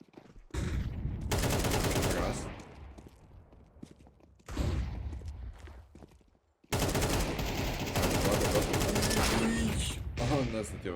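Bursts of rapid gunfire in the video game Counter-Strike 2 on the Dust 2 map, in loud clusters, with pauses between volleys and some talk underneath.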